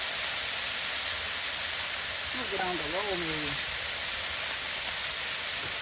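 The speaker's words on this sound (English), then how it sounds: "I like the sound of the sizzle, that's for sure." Steady, bright hissing sizzle of bacon and vegetables frying on a hot Blackstone griddle, with a brief voice speaking partway through.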